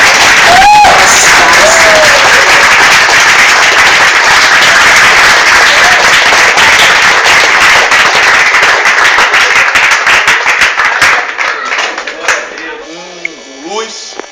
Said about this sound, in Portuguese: Gostaria que a plateia aplaudisse.